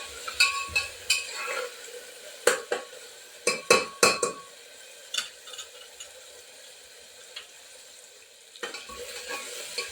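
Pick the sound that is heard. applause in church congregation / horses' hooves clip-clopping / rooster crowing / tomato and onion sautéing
tomato and onion sautéing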